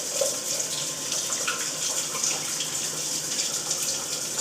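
Water runs steadily from a kitchen tap while hands are quickly washed at the sink, a continuous close hiss and splash with no talking.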